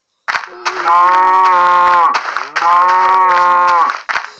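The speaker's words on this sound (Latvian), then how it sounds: "Tā ir govs kādā citā veidā izskatā." A cow from a Minecraft mod gives two long, loud moos in a row, each a drawn-out, harmonic-rich bellow with a short gap between them and no talk over them.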